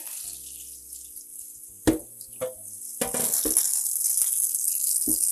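Kitchen tap water running in a sink while a cutting board is rinsed, with a steady splashing flow broken by a few sharp knocks and clatters of the board.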